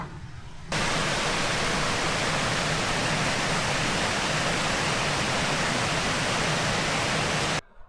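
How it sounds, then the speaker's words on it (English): A waterfall and running water along the Great Glen Way in the Scottish Highlands, heard as a loud, steady rushing roar that starts abruptly about a second in, holds evenly throughout and then cuts off just before the end. "Fresh running water. And the waterfalls."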